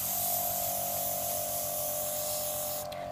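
An airbrush sprays cleaner fluid through its nozzle, a steady close hiss of air running evenly, with a brief click near the end.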